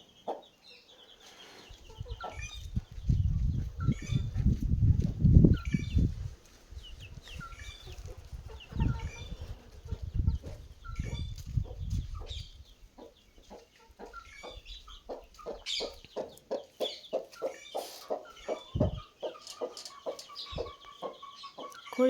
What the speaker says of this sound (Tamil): கோழி குஞ்சுகளை நாங்கள் அடை வச்சு குஞ்சு பறித்து 4வது நாள் ஆகுது.